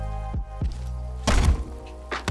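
A cube bounce in the VR game Rumble, where a summoned cube is set to explode and the player dash-jumps off it: a few dull, low thunks close up, with a heavier thumping burst near the middle.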